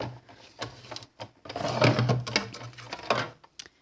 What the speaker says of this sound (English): Put our framelit on there, my other cutting pad, and we'll crank that through.